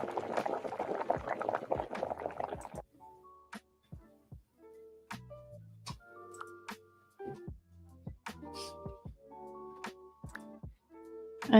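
A pot simmering on a stove in the kitchen of the cozy video game Spirit City: a soft, steady bubbling wash that stops, followed by sparse gentle clicks and light chiming tones in a quiet room.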